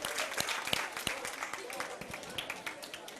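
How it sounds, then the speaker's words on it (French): School audience clapping for a jury on a podium at a youth challenge event, a quiet and fairly sparse round of claps with distinct individual hits and faint voices murmuring beneath. "On les applaudit."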